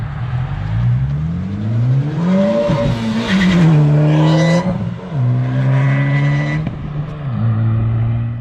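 2018 Honda Civic Type R fitted with an AFE Takeda cold air intake being driven, engine note rising and falling through several rev sweeps with gear changes, steady and fairly loud throughout.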